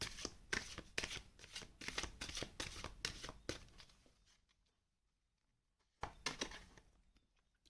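Tarot cards shuffled by hand before a draw: a quick run of crisp riffling flutters, a pause of near silence, then another short burst of shuffling, close and clear.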